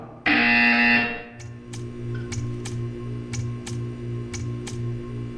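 A loud electronic buzzer in the video game Portal 2 blares for about a second, then a steady hum continues with a series of light regular ticks.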